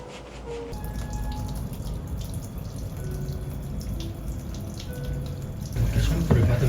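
Tap water runs and splashes steadily at a Nha Trang salon shampoo basin, growing louder near the end, with faint background sounds.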